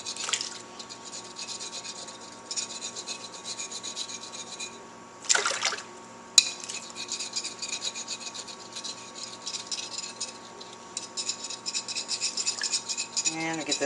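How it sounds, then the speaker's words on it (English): A knife blade scrapes a paper label off a glass bottle with steady, rasping up-and-down strokes, close and continuous, with one brief louder scuff midway and a faint trickle of water in the background. "scrape up and down this label like this, rinse it off"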